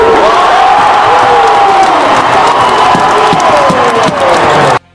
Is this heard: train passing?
no